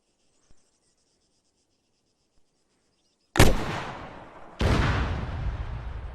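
A rocket launcher fires twice in Arma 3: after near silence with faint ticks, two loud, sharp blasts about a second apart, each trailing into a long roaring rush.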